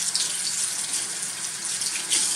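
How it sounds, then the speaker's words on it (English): A sink tap runs steadily at a comfortable temperature, producing a continuous close hiss of flowing water with gentle splashing into the basin and no voices. "I'm just going to run water."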